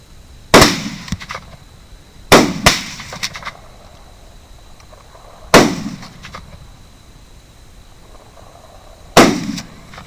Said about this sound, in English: But they're shooting the one off screen.